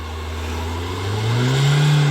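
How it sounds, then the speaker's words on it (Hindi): A car stuck on a muddy, waterlogged slope in Himachal spins one tyre as its engine revs, the steady mid-pitched drone building louder and rising in pitch, close by with no talking. "और ये ऐसे टायर घूम रहा है।"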